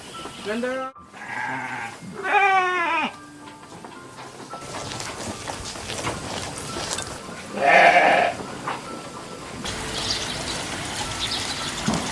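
Goats bleating on a farm: several harmonic bleats stand out, clustered early and again near the middle, over a busy background with voices talking.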